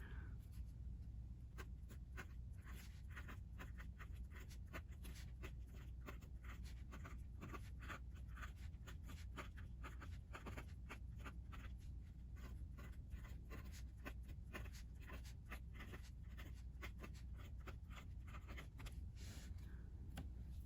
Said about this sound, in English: let's just do another little quick writing sample here.